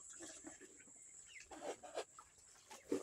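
Rooster and hens clucking softly near a small hut on a farm, a few short throaty calls spaced out over quiet background, with a steady high hiss throughout.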